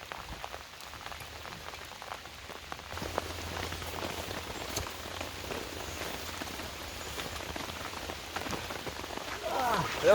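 Rain patters steadily on a fishing bivvy beside a river, a dense close drumming of drops on the shelter fabric that grows slightly heavier toward the end.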